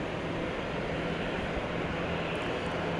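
American Airlines Airbus A320 at night at DFW Airport, a steady broadband jet roar with a low hum, continuous and fairly loud, no voices.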